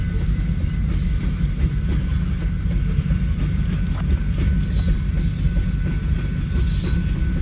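Unit train of tank cars passing through Hobson Yard, Lincoln, Nebraska, overnight: continuous heavy low rumble of rolling freight cars nearby, with high wheel squeal rising in the second half over the steady roar.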